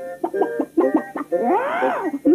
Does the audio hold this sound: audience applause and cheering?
no